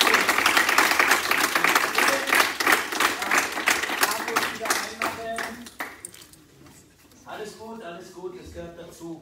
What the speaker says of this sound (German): Für ihn einen ganz großen Applaus.